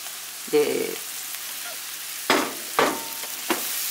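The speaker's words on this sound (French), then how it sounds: "je remue de temps en temps" Seafood pastilla filling frying in a pan with ginger, parsley and coriander, giving a low sizzle with a few short scraping stirs, close and moderately loud, with no talk.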